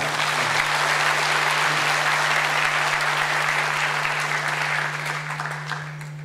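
An audience at a public hearing on a city football club applauds in a continuous dense wash of clapping over a steady electrical hum, gradually thinning out toward the end.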